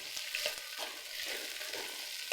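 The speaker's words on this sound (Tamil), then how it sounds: "ஒரு ஐம்பது கிராம் எண்ணெய் ஊற்றி வச்சுருக்கேன் நல்லா சிம்மில் வச்சு நல்லா வத வறுத்து எடுத்துக்குவோம்" Bitter gourd frying in about fifty grams of oil over a low flame, a faint, steady sizzling hiss with a few soft crackles and light stirring touches, heard alone without voices.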